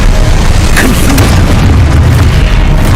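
A Confuso spell cast in Hogwarts Legacy lands as a loud, rumbling magical burst, booming continuously for a few seconds with a brief bright flare near the start.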